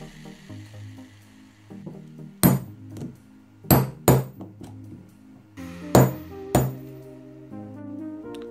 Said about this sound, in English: what you're going to do with the hammer is knock it to the side so that you can get the spacer to the side